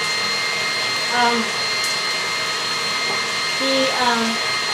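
An electric mixer creams the ingredients for low-carb oopsie rolls, a constant motor whir running throughout beneath a person talking.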